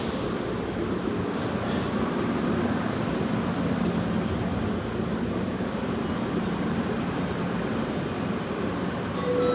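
Automated airport people-mover train carrying passengers to the baggage claim, a steady rumbling ride noise with constant rail hum and rattle filling the whole stretch, loud and close from inside the car, with no talking.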